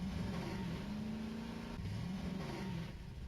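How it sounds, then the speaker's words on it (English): An ATV engine in the video game Voices of the Void revs steadily and loudly, its mid-pitched drone rising and falling continuously with no voices over it. "ATV, I think is what they call them."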